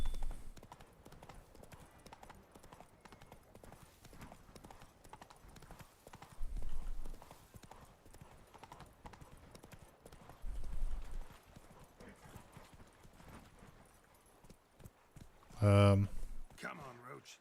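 The horse Roach in The Witcher 3 trots and gallops in steady clip-clop hoofbeats, joined near the end by a sharp loud whinny, while a person talks quietly underneath.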